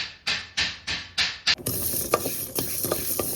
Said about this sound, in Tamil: இதை நாம் வெறும் வானலியில் வறுத்து எடுத்துக்கலாம்